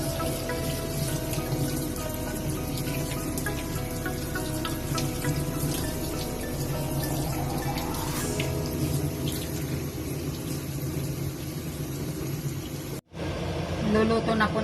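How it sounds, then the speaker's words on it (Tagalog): Boiled mushrooms rinsed under a running kitchen tap, a steady close splashing rush of water that carries on for about thirteen seconds before a brief break and resumes. "Hugasan po natin ulit."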